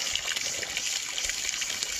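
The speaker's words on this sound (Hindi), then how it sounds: "ये झरने का पानी, यहाँ पाइप से आता है" Waterfall water pours steadily from a pipe in a village on the road from Sohra to Dawki, a continuous close hiss and gush of flowing water with no talk over it.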